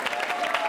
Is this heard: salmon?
no